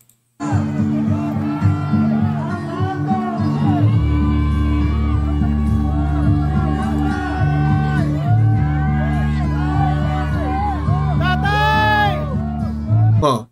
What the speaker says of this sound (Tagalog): Pakinggan nyo ang mga sigaw ng tao ha.